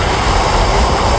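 Airplane passing overhead at dusk near Eco Park in Kolkata, a steady broadband engine roar that stays even and fairly loud for the whole stretch, with no talk over it.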